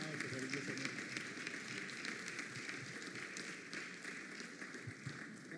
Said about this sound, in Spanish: Reciba los aplausos, cariñosamente.